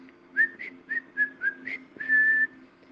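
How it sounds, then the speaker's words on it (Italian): A person whistles a short, lilting tune up close, with about six quick bright notes followed by one longer held note, heard clearly over a faint low hum. "si mise a fischiettare"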